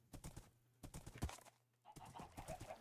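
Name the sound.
horse hooves in the video game Minecraft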